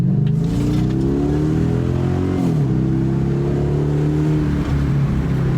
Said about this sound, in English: give a couple test runs down the road to see what this exhaust actually sounds like